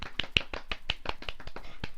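Sharp hand claps ring out in an irregular series, about a dozen quick, bright strikes close by with no voices.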